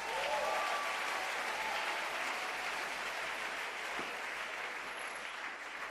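A church congregation applauds, dense steady clapping from many hands filling the room at even loudness for several seconds, with no talk over it.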